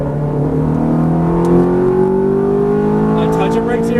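A Ferrari F430 accelerates on track out of a corner, its engine note climbing steadily and loud in-car, with an instructor's voice talking over it.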